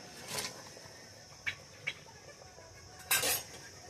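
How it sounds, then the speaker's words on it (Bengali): Shing fish curry with potol being stirred in a pot and covered with a lid: faint, sparse clinks of a spoon against metal, a few short taps, then a louder clatter of the lid near the end. "একটু নাড়িয়ে ঢেকে দিলাম"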